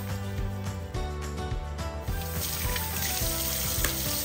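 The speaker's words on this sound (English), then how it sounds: "I put just enough water to cover the chicken." Water runs steadily into a stock pot over rinsed chicken, a continuous close splashing and hiss that deepens in tone partway through as the pot fills, with no talking.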